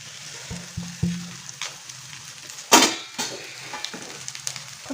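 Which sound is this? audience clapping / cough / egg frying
egg frying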